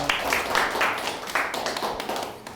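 An audience at a public lecture event applauds, giving a short burst of scattered, moderately loud hand claps in a large room.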